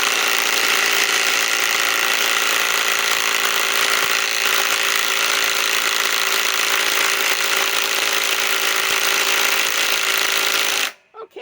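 A Milwaukee M12 Fuel Stubby 2562-20 impact wrench on a 5 Ah XC battery runs in one long, loud, continuous hammering burst for about eleven seconds while loosening a fastener, then cuts off abruptly.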